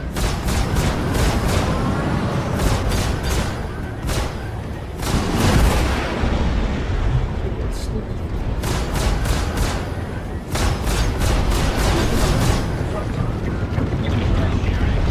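Spaceship guns fire in repeated rapid bursts while flying against a Vanduul swarm in an Aurora LX in Star Citizen Arena Commander, loud sharp volleys separated by brief gaps over a steady engine roar.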